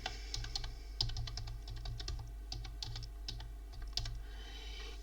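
Computer keyboard keys tapped in quick, irregular bursts while an archive name is typed, with steady clicks close up over a low background hum and no voice.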